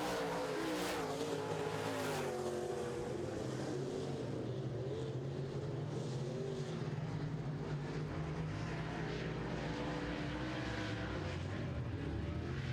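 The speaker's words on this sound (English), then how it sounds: "Danny Staff now trying to make his move to try to get a little bit closer as they go through the front stretch." Modified race cars roar around a dirt oval track in a steady, continuous engine drone, with the pitch rising and falling as the cars pass.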